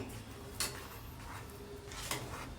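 A spoon clinks against a pan or bowl while stirring fresh cream into a mixture, two sharp taps standing out over quiet, soft scraping.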